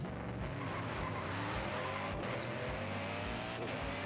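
Retro muscle car engine in Forza Horizon 5 roaring steadily and loud throughout, with rising harmonic revs, a brief tire squeal and a faint voice underneath.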